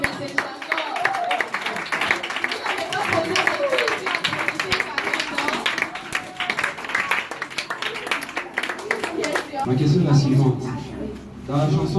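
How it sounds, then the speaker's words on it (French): An audience at a Catholic orphanage in Kinshasa breaks into loud, sustained clapping near the end, after a stretch of someone speaking over a lively room. "On applaudit très fort."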